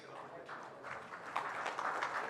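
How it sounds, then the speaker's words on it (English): An audience claps steadily to welcome a speaker back onto the stage at a cybersecurity keynote, a moderate wash of applause that swells slightly toward the end. "Can we please welcome Daniel back here with a big round of applause"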